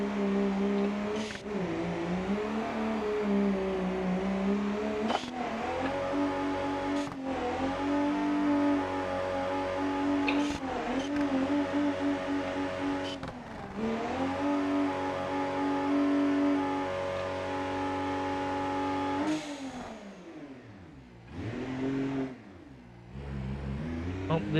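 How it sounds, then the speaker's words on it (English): A stripped-down Holden Commodore VN or Ford Falcon EF with missing body panels revs hard in third gear while doing donuts, the engine rising and falling in repeated loud surges, with a brief drop near the end before it picks up again. "Let's actually see if we can get some donuts out of these things."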